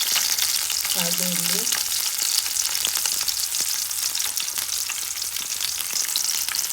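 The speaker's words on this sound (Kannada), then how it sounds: "ಅದನ್ನು ಈಗ ಬಿಸಿ ಬಿಸಿ ಎಣ್ಣೆಗೆ ಹಾಕಿ ಫ್ರೈ ಮಾಡ್ಕೊಳ್ಳೋಣ" Cumin and mustard seeds fry in hot oil for a village-style desi pasta, giving a loud, steady sizzle and crackle throughout while a voice speaks briefly over it.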